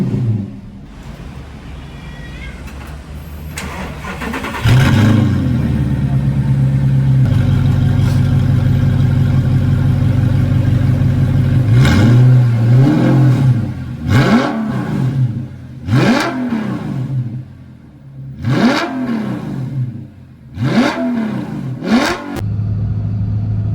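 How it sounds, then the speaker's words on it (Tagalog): An Audi R8 with 31,000 miles sits idling close by, then its engine is blipped through a series of sharp, loud revs that rise and fall in quick succession, with no one talking. "I'm sure everybody wants to hear the roar of this monster engine."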